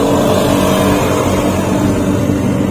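Suzuki Karimun Wagon 1000cc car labouring up a steep hill, a loud sustained strained engine roar with dense low rumble, heard from inside the cabin, no voices.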